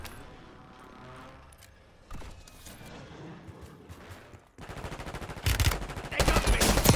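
Gunfire in a Call of Duty Warzone match, sniper fire among it, starts as scattered distant shots, then swells into dense, rapid, close bursts near the end with no speech.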